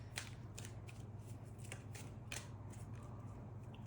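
Tarot cards being shuffled by hand, a series of soft, crisp riffling snaps repeating at an irregular pace, close and fairly quiet over a steady low hum.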